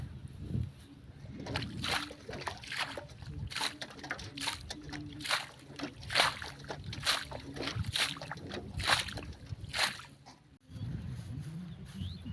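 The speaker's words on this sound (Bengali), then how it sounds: "এই জলগুলো সব মারতে হবে হিঁচে হিঁচে" Water bailed by hand out of a flooded rice seedbed during the rainy season, a rhythmic series of scooping sloshes and splashes at steady intervals, fairly close, with a faint voice at times.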